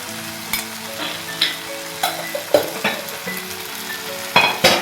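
Boiled potatoes and pointed gourd fry in mustard oil for an egg curry, giving a continuous close sizzle punctuated by irregular clinks and scrapes of a spatula stirring in the pan.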